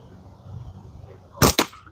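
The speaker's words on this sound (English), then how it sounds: "I'm shooting really lightweight bands and 8mm steel ammo" A slingshot fired with lightweight bands and 8mm steel ammo: a quiet lead-in, then a sharp snap followed a moment later by a second crack, close and brief.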